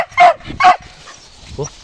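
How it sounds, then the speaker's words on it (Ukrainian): A stray dog at a garbage dump gives two loud, close barks in quick succession, then a softer bark after a brief pause. "Не можна так сильно гавкати"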